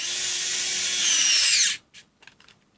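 A TONE hybrid USB-charged electric screwdriver whirs steadily at high pitch for nearly two seconds during a torque test set near 8 inch-pounds, then cuts off abruptly, followed by a few faint clicks and small handling knocks.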